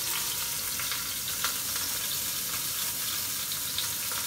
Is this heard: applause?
no